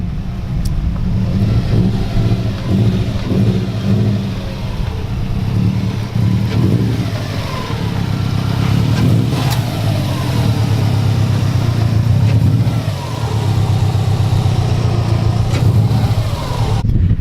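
A Subaru WRX STI boxer engine idles with a deep, uneven rumble and occasional light revs, loud and close throughout with no talk.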